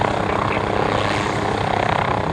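Propeller airplane departing an airshow, its engine droning loud and steady at close range with a pulsing airscrew beat throughout, no voices over it.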